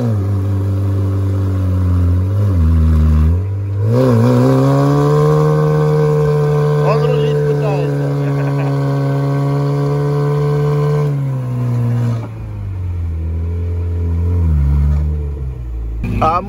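A Turbo Niva off-road vehicle labouring through deep ruts, the engine droning and rising and falling in pitch as it revs, close and loud for a long stretch, with brief dips in throttle.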